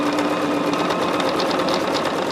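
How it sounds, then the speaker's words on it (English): A sewing machine stitches quilt blocks with a loud, steady, fast mechanical whirring and rattle close by, running without a break. "is just start sewing the blocks on here"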